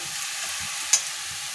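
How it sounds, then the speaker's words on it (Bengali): Onion frying in a pan, a soft steady sizzle with faint hiss and one brief sharp tick of stirring partway through. "পেঁয়াজটা ভাজতে দিয়েছি"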